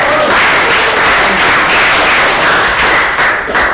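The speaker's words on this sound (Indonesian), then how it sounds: "Kita beri tepuk tangan dulu untuk kelompok persiapan." Loud, close applause from a classroom group as presenters in a construction technology teaching session are welcomed, a thick continuous clatter of many clapping hands with a few sharper claps standing out, no speech.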